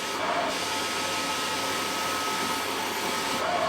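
An xTool air purifier runs steadily in a workshop with strong suction, giving a constant, even whooshing fan roar with no breaks across the whole stretch.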